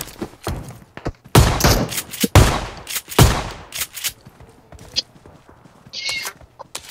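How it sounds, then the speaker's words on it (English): Gunfire from enemy bots in a multiplayer shooter game, sharp bursts of shots and loud impacts crowding the first half, thinning into sparser scattered pops later, with a faint voice briefly present. "I think they're shooting at us."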